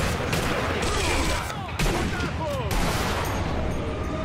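Dense bursts of rifle and gunfire ring out in Sniper Elite V2 during a fight with Russian soldiers guarding the Karlshorst command post, loud and continuous with overlapping shots.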